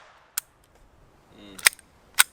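.22 pistol fired at a range with target ammunition that is giving feeding trouble: three sharp, dry cracks. The first is short and isolated, and two closer together come near the end, with quiet pauses between them.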